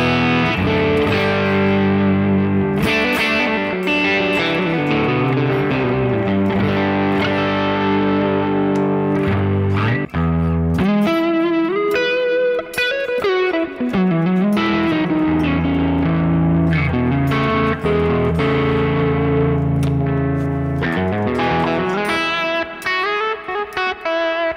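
An electric guitar plays through an effects chain with hall reverb, giving an edge-of-breakup, lightly distorted tone. Sustained chords and ringing notes play loud and continuously, with no talking.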